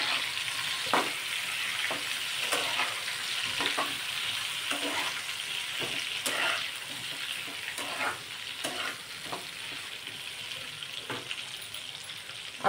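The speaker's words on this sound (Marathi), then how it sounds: "आपण ही वांगी जी आहेत ती छान अशी फिरवून घेऊ, म्हणजे दुसऱ्या बाजूने सुद्धा तेलामध्ये परतल्या जातील" Eggplant pieces fry steadily in hot oil with a continuous close sizzle while a spatula scrapes and turns them in the pan at irregular intervals, with no talking.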